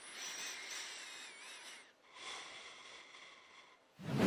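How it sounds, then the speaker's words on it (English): A character in THE FINALS breathes quietly in the contestant editor, two soft airy breaths in close succession, faint and close, followed by a short louder noise at the end. "you can actually hear your character quietly breathing"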